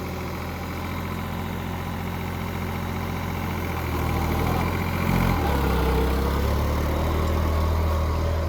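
A New Holland 3600 tractor engine runs steadily, a low, constant diesel drone that grows slightly louder and heavier about halfway through, with no talk over it.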